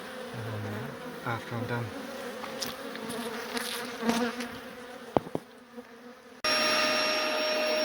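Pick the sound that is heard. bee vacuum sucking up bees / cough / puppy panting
bee vacuum sucking up bees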